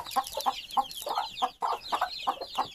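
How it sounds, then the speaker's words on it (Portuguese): Young chicks of a naked-neck chicken flock on a farm, growing and starting to spar, clucking and chirping in quick overlapping bursts, close and fairly loud with no talking. "Aqui tá aqueles pintinhos que não param de crescer."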